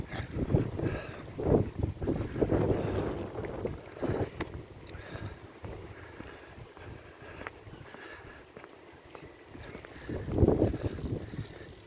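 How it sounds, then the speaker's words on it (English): Blustery outdoor wind in the seaside town of Bournemouth buffets the microphone in uneven low rumbling gusts. The loudest bursts come early and again near the end, with calmer stretches between them and no talking. "I'll get out of this blustery wind."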